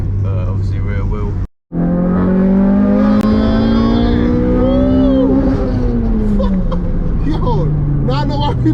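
A Honda Civic EM1 VTi with a VTEC engine revs hard inside the car. It is a loud engine note that climbs steadily, peaks, then eases back down, after a short cut near the start.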